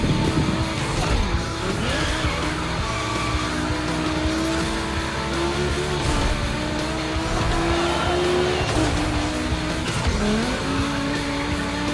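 Volkswagen race cars in The Crew Motorfest's Gymkhana Grid Masters roar continuously with rising and falling engine pitch as tires squeal and skid through the whole stretch, loud and close, with no talk.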